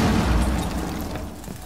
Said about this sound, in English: You would shoot an ash charge